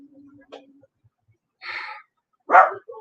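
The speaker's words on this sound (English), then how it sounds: "Damn dog." Pet dog named Oreo barking indoors, a couple of short sharp barks separated by pauses, the second louder and closer, with faint low sounds between.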